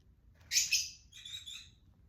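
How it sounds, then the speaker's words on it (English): A small pet bird chirps close by in a quiet room, a bright burst of rapid high tweets followed by a second softer trilling phrase, with no talking. "Oh, that cute little bird."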